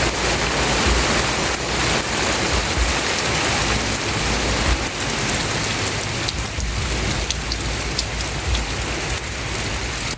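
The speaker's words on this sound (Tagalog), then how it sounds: "Lumalakas po ang ulan!" Heavy rain pours steadily on a farm, a dense, loud hiss of drops throughout with no voices.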